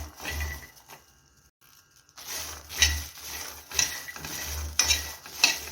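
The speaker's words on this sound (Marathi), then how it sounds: "तीन ते चार मिनिट हे मटार आपण भाजून घेऊया" Green peas dry-roasting in a kadai over a gas flame, stirred in bursts with sharp scraping and clinking of a utensil against the pan, broken by a short quiet pause, with no talking.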